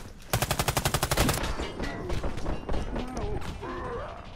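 Shotgun fire in the shooter video game Warface, a quick loud string of about a dozen sharp shots near the start, then quieter clatter and a voice speaking.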